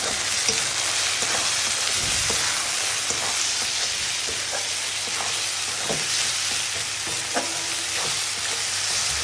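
Onions sizzle and fry in a pan with a little salt added, a constant close hiss with faint stirring taps and scrapes throughout.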